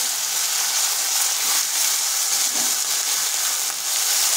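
Potatoes and panch phoron spices with whole cumin frying in hot oil, a steady close sizzling hiss that holds evenly throughout with no talking.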